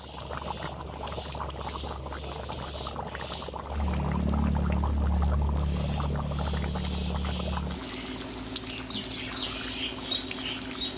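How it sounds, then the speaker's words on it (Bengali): Water poured into a pot of browned duck meat curry cooking village style, a loud close pouring rush lasting a few seconds before settling into a simmering bubble. "মাংস কষানো হয়ে গেছে, পরিমাণ মতো জল দিয়ে দিচ্ছি।"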